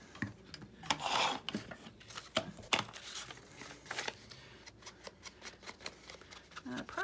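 Scissors or a trimmer cut the bottom off a paper junk journal pocket made from an envelope, close rasping snips and crinkles in an irregular rhythm, with a voice speaking at times.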